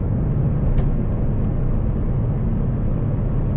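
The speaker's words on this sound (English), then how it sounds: "With sport, see, it's just, you can just hear the exhaust really" A Mercedes-AMG C63 S in sport mode cruising at speed, its exhaust a steady, low, continuous rumble heard from inside the cabin, with no pops.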